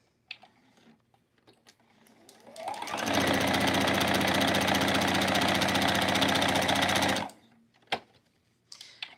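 A sewing machine quilts a fabric zipper pouch with iron-on patches, running in one steady fast buzzing burst of about four seconds, with quiet handling clicks before and after.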